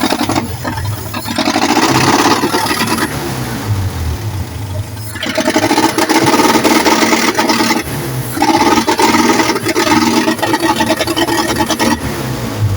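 Engine under load while being revved to check for misfiring, running loud and continuous with uneven surges and drops in intensity, a rough, struggling tone that fails to climb to full revs.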